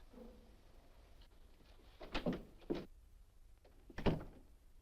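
An office door opens as a visitor enters, heard as a few soft clunks and thuds in a quiet room in a 1950 film scene.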